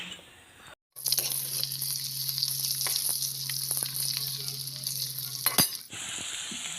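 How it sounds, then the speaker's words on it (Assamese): Egg frying in a hot wok gives a loud, steady, close sizzle that runs almost unbroken, with a few light utensil clicks along the way. "কেৰাহীটো বহাই দিলোঁ পিটিকি ল'লোঁ এতিয়া অলপ ডিমটো ভাজি ল'ম"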